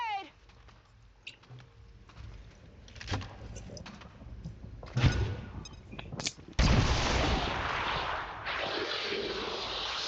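Grenade blasts and gunfire in the XCOM 2 video game: a few scattered shots at first, then a loud explosion burst followed by a sustained roar of fire and debris, with game voices in the background.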